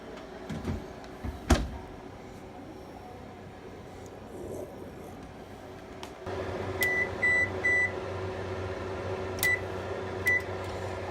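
A kitchen oven that is baking a painted turbo exhaust housing gives a low steady hum once it starts, broken by several short electronic beeps, after some earlier handling knocks.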